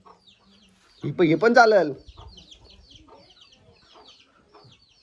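Village chickens, including a rooster, being caught: one loud, harsh squawking burst about a second in, then faint scattered clucks beneath people talking nearby.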